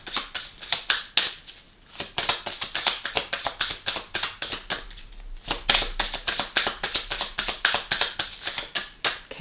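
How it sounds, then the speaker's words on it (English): Tarot cards are shuffled by hand close up, quick crisp bursts of riffling and tapping in an uneven rhythm with short pauses between runs, no talking. "one more shuffle and then I'll take the top card"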